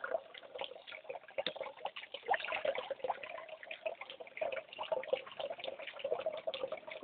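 Clear water runs steadily from a tap, a continuous close splashing rush with small irregular spatters throughout and no voices.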